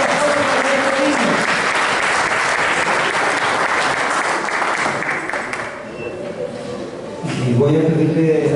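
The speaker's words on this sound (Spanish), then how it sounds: "aplausos para el mismo." An audience at an evening Christmas gathering claps loudly and steadily for several seconds, the applause thinning out before a voice speaks over the fading clapping.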